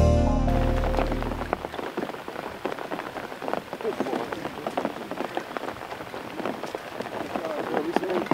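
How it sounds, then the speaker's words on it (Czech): Steady rain patters on water and surfaces beside a river during a disabled anglers' float-fishing championship, a dense continuous hiss with scattered drops, briefly under a low rumble at the start. "Podle předpovědi i druhý závodní den mělo pršet a předpověď se vydařila"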